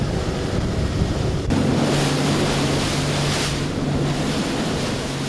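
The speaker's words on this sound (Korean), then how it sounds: "오늘따라 파도가 거센데요." Rough sea waves surging around a small crab-fishing boat heading out from the coast, a constant loud wash of surf with an engine hum underneath and no talking.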